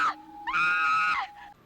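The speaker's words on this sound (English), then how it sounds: "we get a monkey scream from the nurse" A nurse in a horror film lets out a shrill, warbling, monkey-like scream, one sustained high wail of about a second, loud and close.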